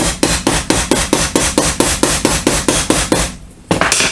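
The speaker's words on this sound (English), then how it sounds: "a few twacks of a soft hammer to get it to set a little better" Rapid, evenly spaced taps of a soft hammer on a teapot lid, about a dozen close, crisp knocks in a steady rhythm, a short pause, then one more strike.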